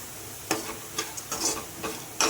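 Carrot fry stirs and sizzles in a pan under a constant crackle, with a spatula scraping and clacking against the pan at irregular moments close by.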